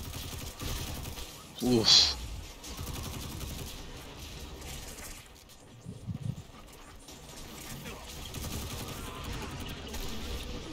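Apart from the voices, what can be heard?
gunfire in video game Destiny 2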